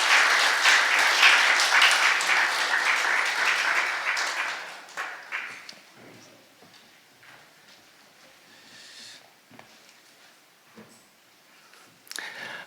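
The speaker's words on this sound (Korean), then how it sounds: "저 뒤쪽에 계시는데 여러분들 큰 박수로 한번 환영해 주시면 감사하겠습니다." A church congregation at a Sunday worship service claps loudly in welcome, the dense applause lasting several seconds before thinning into scattered claps and quiet room noise, with one sharp burst near the end.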